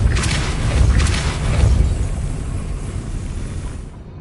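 A heavy booming blast from the Depulso spell in Hogwarts Legacy, loud and close, rumbling with a couple of bursts before fading into a decaying roar.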